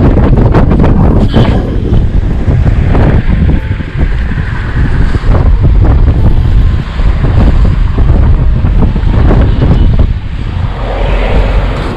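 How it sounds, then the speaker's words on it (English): Strong wind buffets the microphone outdoors on a photowalk at Lower Anaicut, a loud, continuous roaring rumble with gusty surges and no voices. "It's quite windy, so I don't want to change my lenses here."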